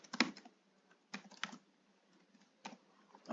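Keys clatter on a computer keyboard in three short bursts of quick taps separated by quiet pauses while a number is entered, close and fairly soft with no speech.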